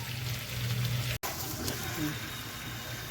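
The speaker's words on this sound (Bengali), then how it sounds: "এবার এর মধ্যে জল দিয়ে দেবো পরিমাণ মতন।" Water is poured into a pan of fried-down masala for a chicken curry with potatoes, making a soft, low liquid splash and trickle with a sharp break partway through, faint against room noise.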